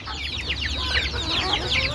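A flock of native chickens clucks and chirps busily all at once while feeding on a rooftop, close by, a dense overlapping chatter of short calls.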